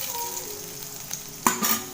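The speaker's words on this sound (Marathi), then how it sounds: "कढीपत्ता जरा असं मिक्स करून घ्यायचं आणि तेल पण कमी टाकायचं," Urad dal and curry leaves frying in a little oil for coconut chutney, a steady close sizzle with a brief stirring scrape and a louder crackle toward the end.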